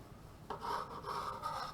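Knife sawing through the edge of a Swiss roll cake, a short soft rasping scrape starting after a brief quiet moment, with back-and-forth strokes close by.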